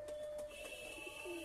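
Kaldum high-flying pigeons coo softly in a steady low murmur, with a few faint chirps over quiet evening outdoor background.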